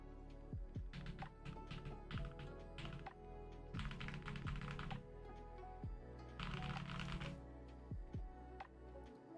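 A Glacier80 mechanical keyboard with PE foam is typed on up close, quiet clacky keystrokes in uneven bursts and pauses, with a few sharper isolated taps between runs.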